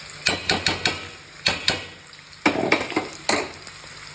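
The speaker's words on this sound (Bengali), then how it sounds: "এবার একটু মিশিয়ে আলতো হাতে ভালো করে মিশিয়ে 10 মিনিটের জন্য রেখে দেবো লো ফ্লেমে।" Biryani-style pulao gently stirred in a pot, a series of sharp metal scrapes and knocks of a spoon against the vessel in uneven bursts over a soft sizzle, close up with no speech.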